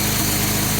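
Datsun 280ZX turbo engine running steady with no thermostat fitted, a close, even low rumble with a continuous hum and no voices.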